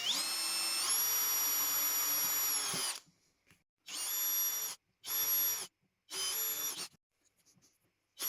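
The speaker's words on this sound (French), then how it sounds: "Là, on perce 4 trous plus gros pour que s'il y a de l'eau qui rentre dans le piège, elle puisse s'écouler." A power drill bores holes in a PVC mosquito trap: one long high-pitched whining run, then three shorter bursts separated by silence, close and clear with no talk.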